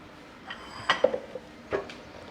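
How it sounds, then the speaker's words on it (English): Kitchen bowls are set aside and another picked up, producing a few light clinks and knocks of dishware, close by and otherwise quiet. "I'm just going to sit this aside and grab another bowl"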